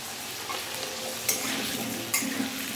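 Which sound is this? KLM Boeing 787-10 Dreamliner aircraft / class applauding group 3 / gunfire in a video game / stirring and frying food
stirring and frying food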